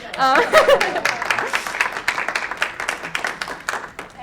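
Audience clapping after a science presentation, moderately loud and uneven, with individual claps standing out for a few seconds while a voice speaks over the start.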